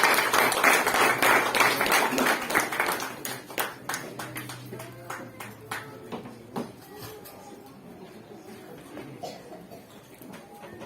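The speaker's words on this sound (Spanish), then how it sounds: "Vamos a recibir al Pastor Níger con un aplauso de cariño" An audience at a 2022 missionary conference claps to welcome a pastor, starting as dense, full applause that thins into scattered individual claps and then fades out.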